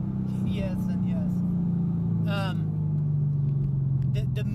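A 2013 Mustang GT running on E85 drones steadily from inside the car under hard acceleration, its engine tone holding loud and even while people talk over it.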